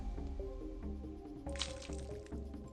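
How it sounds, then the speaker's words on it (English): Pink vomit splashing onto a desk in the Chaos;Child visual novel game, heard as a quiet series of wet drips and squishes, with a sharper splatter partway through. "The pink fluid splashed against the desk."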